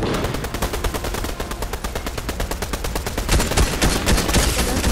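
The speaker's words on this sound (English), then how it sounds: "someone's shooting at Vak" Rapid automatic gunfire rattles loud and close in the video game Fortnite, a dense sustained burst of shots that grows heavier toward the end.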